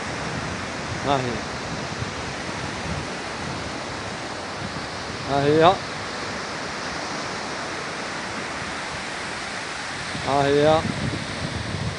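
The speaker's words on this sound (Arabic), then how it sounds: "البحر طالع عليها، ها هو مازال كيضرب فيها هنا" Sea waves at Agadir wash against the shore in a continuous hissing surge, with someone speaking briefly at intervals over the steady roar.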